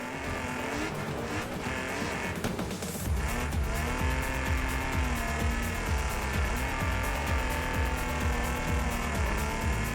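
In the Wreckfest 2 racing game, a race car's engine drones steadily and loudly, with a tire squeal and skidding early on, then a harsh, rumbling note that holds for the rest of the stretch.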